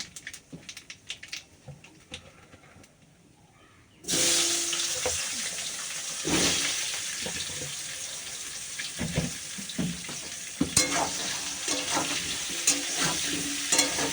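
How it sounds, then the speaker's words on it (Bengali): Vegetables are added to hot oil with nigella seeds and fry with a sudden, steady sizzle that starts after a quieter stretch of kitchen clatter, with occasional stirring knocks over the continuous hiss. "তেলের মধ্যে না কালো ছিঁড়ে দেবো কালো জিরে দেবো দিয়ে এবার তোমার সবজিটা দিয়ে দেবো"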